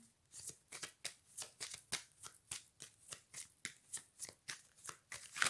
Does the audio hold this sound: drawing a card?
yes